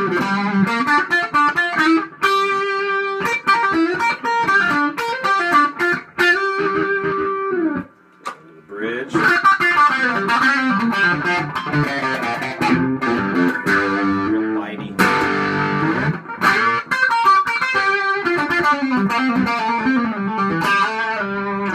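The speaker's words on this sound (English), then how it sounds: "here's more of a rock lead tone" Distorted electric guitar lead with a warm, rounded tone from the neck pickup plays sustained notes and fast runs over a full backing, loud and continuous, through a Brookhaven DBZ Imperial amp.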